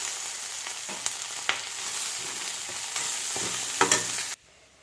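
Food fries in a pan with a constant bright sizzle, broken by a few sharp clinks of stirring, before cutting off abruptly near the end.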